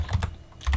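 Quick keystrokes on a computer keyboard as a command is typed on a Linux Ubuntu machine, a short burst of close, crisp clicks with a brief pause before a final pair of taps.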